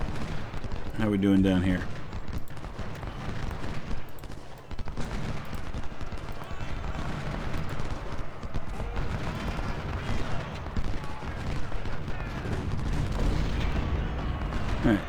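Cannon fire and massed rifle volleys from a Civil War battle at Seven Pines in Ultimate General: Civil War rumble continuously throughout, a dense layered din with someone briefly talking early on.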